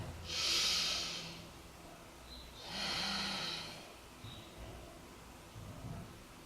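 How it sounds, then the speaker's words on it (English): Slow, deep yoga breaths, a long airy inhale and then an exhale, fairly close and soft, with a quiet pause and a faint low rustle afterward. "deep breath in and out"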